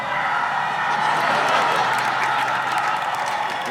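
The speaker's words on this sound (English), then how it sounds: "We're cheering you." A crowd cheers and applauds steadily at moderate loudness, a dense wash of claps and whoops mixed with voices, sustained without pause.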